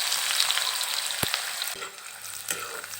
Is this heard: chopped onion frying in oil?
yes